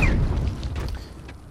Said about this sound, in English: He's gonna throw a grenade at me.